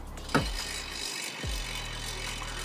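An e-MTB rear hub freewheel ratchets with quiet, rapid clicking as the wheel spins. Two brief swooshing passes break through the steady ticking.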